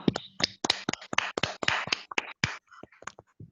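Scattered hand claps from a small audience at a mentoring forum, giving thanks to a speaker: irregular, sharp, close claps that thin out to a few isolated ones by the end.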